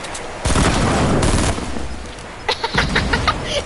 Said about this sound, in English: someone else is shooting me, Javier